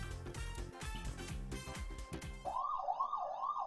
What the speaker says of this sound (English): Oh, did you hear that sound? The siren?